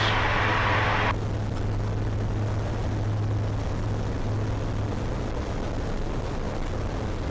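A Eurofox microlight aircraft's engine runs at full power on takeoff, a steady, loud droning roar with a high whine that drops away after about a second while the engine holds on.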